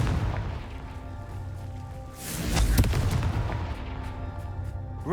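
A Confringo blasting spell detonates in Hogwarts Legacy with a heavy booming explosion partway through, its rumbling low roar swelling and lingering for a couple of seconds.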